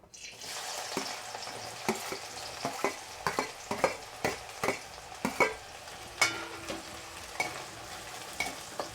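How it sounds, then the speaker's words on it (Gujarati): Onions sizzle in oil in a pan, with repeated sharp scraping and stirring clatters of a utensil at an irregular rhythm, close by and alone. "ડુંગળીને આપણે પહેલાં થોડી શેકી લઈશું"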